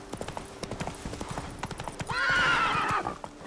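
Roach the horse in The Witcher 3 galloping with rapid rhythmic hoof clip-clops, then a loud whinnying neigh rising over the hoofbeats for about a second before fading.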